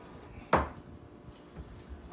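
A single sharp metallic clank as a 3/4-size metal hotel pan is set down or handled in a home kitchen, close and brief, with faint room noise afterward.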